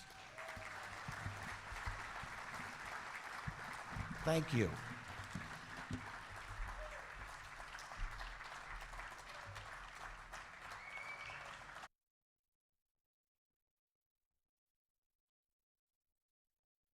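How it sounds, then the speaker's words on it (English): Audience applause at an awards gala for a banking hall of fame, a steady round of clapping sustained for about twelve seconds with a brief spoken thanks partway through. "let's give them a huge round of applause"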